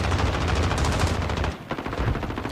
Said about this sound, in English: Slight exchange of gunfire between both teams now